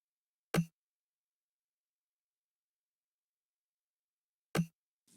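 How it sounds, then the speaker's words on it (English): A tom drum in an Afro House beat made in Logic Pro, panned left with its low end cut, strikes as sparse, faint, dry hits separated by long silences. "So there's one more tom which sounds like this."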